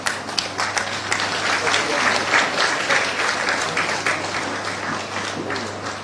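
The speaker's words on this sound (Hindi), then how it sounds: "तालियों के बीच माननीय मंत्री महोदय का स्वागत और अभिनंदन।" An audience applauds to welcome a state school education minister at a government signing event with an IT firm, steady dense clapping holding over a low hum before easing slightly toward the end.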